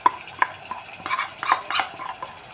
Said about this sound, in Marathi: बरोबर हे मस्त असं परतून घेणार आहे